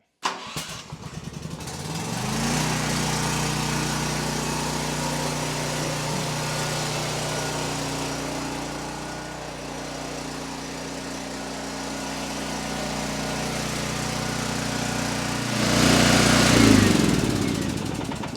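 A new Champion generator with electronic fuel injection sputters to a start and then runs at a steady, loud, droning idle for a long stretch, with its pitch rising briefly near the end.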